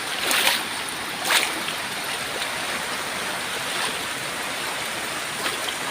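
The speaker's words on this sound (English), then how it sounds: "This is all river now, and it goes 300 metres that way." Floodwater rushes through Goomboora Park in Cairns after ex-Cyclone Jasper, giving a steady broad roar with a couple of brief splashes from someone wading near the start.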